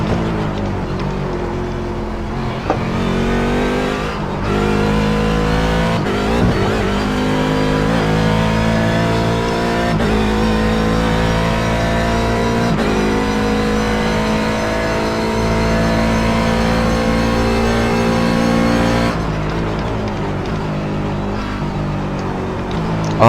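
Race car engine in the iRacing sim at Monza running laps, a loud steady high-revving drone with gear shifts and brief lifts, constant and close throughout.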